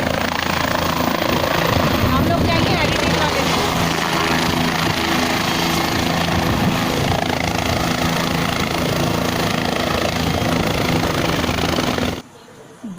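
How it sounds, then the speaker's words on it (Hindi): Helicopter departing Kedarnath, a loud, steady rotor and turbine roar filling the whole clip at close range, with voices talking over it, cutting off abruptly near the end. "अब हम हेलीकॉप्टर से प्रस्थान करने लगे हैं।"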